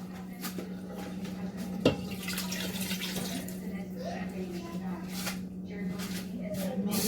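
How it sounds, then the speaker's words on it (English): Roughly two cups of water are poured into an Instant Pot for a chicken stew, a soft splashing against a steady hum, broken by a brief clatter of kitchenware. "I want to pour water. So I'm going to put like 2 cups of water."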